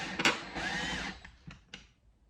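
A drill drives drywall screws into cedar siding, a brief high whirring burst with a rising motor whine, followed by a couple of short, softer trigger blips.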